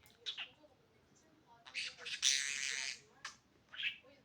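A pet budgerigar at home gives several short chirps and one longer scratchy squawk, faint and close, spaced by quiet gaps.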